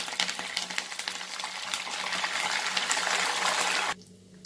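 Curry leaves dropped into hot oil in a pan while cooking a South Indian breakfast dish, giving a loud, dense, continuous sizzle and crackle close up that cuts off abruptly near the end.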